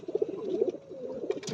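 Domestic pigeons in a loft coo in soft, rounded, repeated notes that pulse unevenly across the clip, close by, with no talking.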